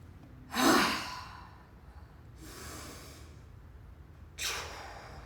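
Three slow, deep breaths during a somatic shaking exercise, a strong exhale first and then two softer ones, close and breathy, with quiet gaps between.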